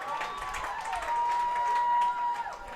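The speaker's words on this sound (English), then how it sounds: "the Braunfels crowd vocal here at Ranger Field" Crowd noise from spectators at a high school baseball game at Ranger Field, the home crowd on the first base side voicing steady murmuring and scattered cheers with some clapping, heard from a distance alongside a faint tone.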